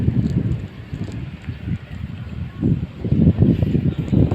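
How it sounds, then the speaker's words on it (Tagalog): Strong gusts of wind batter the microphone outdoors near a grazing horse, loud low buffeting rumbles surging and fading in uneven bursts with no talk. "Sobrang hangin naman."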